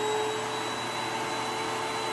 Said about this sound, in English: All you need is a little vacuum cleaner.